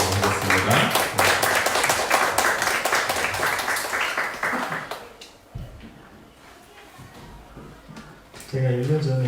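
A church congregation's welcoming applause at a Sunday morning worship service, loud clapping for about five seconds that fades away, then a voice starts talking.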